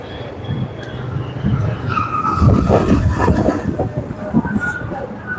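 Vehicles of an election procession pass close by on a rain-soaked street. The rumble is loud and continuous, swelling and fading as they go, with faint voices in the background.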